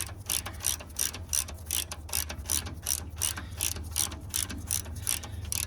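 A socket ratchet clicks in quick, steady bursts while tightening a bolt on a lower roller of a rubber-track excavator, close and alone, with a constant low hum underneath.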